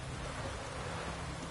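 Steady, dense rain hisses continuously with a low rumble beneath it, like distant thunder rolling through a downpour, in the video game The Witcher 3.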